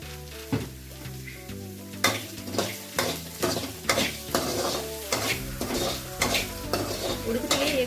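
Onions with salt frying in a pan, a steady sizzle broken by repeated scraping strokes of a spoon stirring, close and loud with no talk.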